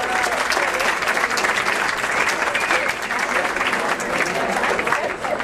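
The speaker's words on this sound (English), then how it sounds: "everybody should give them a round of applause" An audience at a river conservation coalition meeting gives a sustained, steady round of applause, dense clapping filling the room from start to finish with no break.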